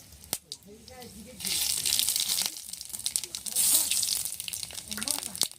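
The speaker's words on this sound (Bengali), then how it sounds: "শুকনো লঙ্কা ফোড়ন দিয়ে দিলাম, রাঁধুনিটা দিয়ে দেবো।" Dried red chillies and radhuni seeds sizzling in hot oil while tempering for a greens curry, a bright crackling hiss that swells and fades in bursts, with some talk over the frying.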